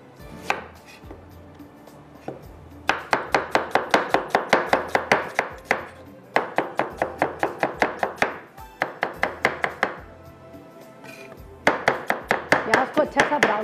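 Onion is chopped on a board with rapid, even knife strikes in several bursts separated by short pauses, close and crisp, with faint background sound between runs.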